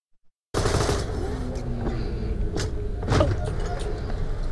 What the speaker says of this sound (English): I will shoot you now.